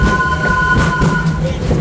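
A train at Disney's Animal Kingdom rolls toward a station, making a steady loud rumble with a faint high whine, close and continuous.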